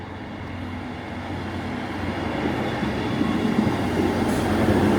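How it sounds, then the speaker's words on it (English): Train arriving at a station platform on a Grand Central service to Bradford Interchange, a steady low rumble and rail noise that swells gradually as it draws nearer. "Okay, train on time."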